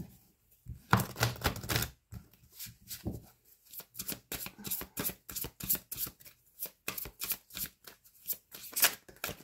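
Tarot cards shuffled and drawn by hand, close-up bursts of rapid riffling clicks in uneven clusters separated by brief pauses, with no talking.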